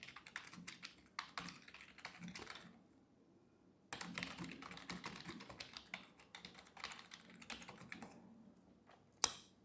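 Quiet, rapid typing on a computer keyboard, with bursts of keystrokes broken by a short pause and ending on a sharp final key press.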